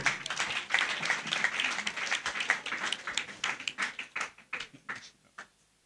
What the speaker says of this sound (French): Wilson Kabange. Est-ce qu'on peut applaudir pour lui, s'il vous plaît